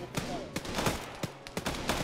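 Gunfire crackles in a military video game, with several sharp shots and short bursts in quick succession over a steady background.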